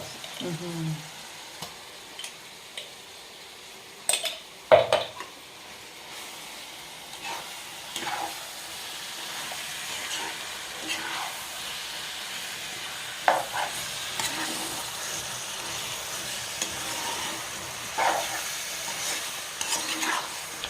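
A tempering of spices sizzles in a pan for coconut-milk chicken curry while a utensil stirs and scrapes it in scattered close knocks, the frying hiss staying low and steady underneath.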